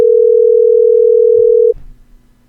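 A steady telephone dial tone hums loud and unbroken for nearly two seconds while placing a call, then cuts off abruptly, leaving faint low background noise.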